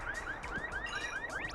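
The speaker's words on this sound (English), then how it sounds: "I'm hearing the most obnoxious sound effect ever, so you can tell our old friend, the alarm robot's nearby" Alarm robot in the Bomberman Hero video game blaring a looping electronic siren, repeated rising chirps with a warbling tone sounding steadily and loudly throughout, no voices.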